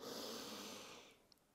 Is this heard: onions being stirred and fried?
no